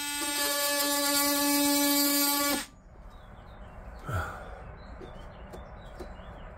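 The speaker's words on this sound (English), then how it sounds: "I'm just going to multi-tool this across." An oscillating multi-tool with a metal blade cuts across a narrowboat floorboard, giving a loud, steady, buzzing whine for about two and a half seconds before it stops abruptly, leaving quiet room noise and one soft knock.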